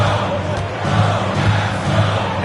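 Arena crowd noise at a Dallas Mavericks basketball game in a video game, a steady loud roar of cheering spectators with low rumble throughout and brief swells.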